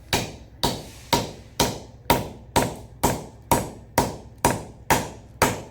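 A hammer drives a wooden handle into the head of a striking tool, landing about twelve evenly spaced, loud, ringing blows up close, with no speech.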